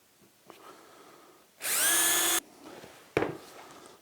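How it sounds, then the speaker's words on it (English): A power drill whines in one short burst of under a second, drilling a pilot hole to mount a Bessey vice on a Festool MFT3 table, close by, with light handling knocks before and after. "so I'll now just do a pilot drill here"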